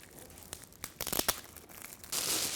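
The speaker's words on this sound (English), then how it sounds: "Now this, you're going to unwrap it." Crinkling and tearing of wrapping paper as a wrapped gift is opened, a few sharp rips followed by a sustained rustle, close and clear with no talking.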